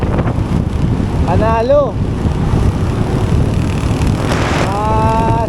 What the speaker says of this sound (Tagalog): Mahangin na mahangin.